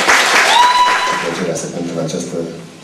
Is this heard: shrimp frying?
no